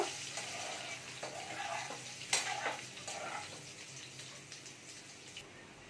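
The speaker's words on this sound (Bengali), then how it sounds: "আলুগুলো একটু লাল লাল করে ভেজে নেব" Potatoes frying in a pan for aloo fulkopi, a quiet steady sizzle with occasional scrapes and clinks of a spoon stirring, fading slightly toward the end.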